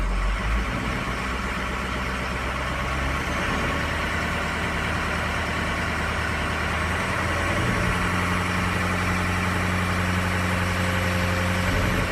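A flatbed truck's engine idles steadily at close range, with a continuous low rumble and a slight shift in tone partway through as the truck is put in gear.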